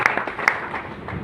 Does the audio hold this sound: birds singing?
no